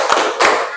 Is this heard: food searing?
no